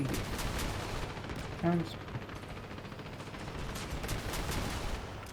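Gunfire in the vehicle combat game Crossout, a steady stream of rapid shots at moderate level with a brief louder burst, under a player's talk.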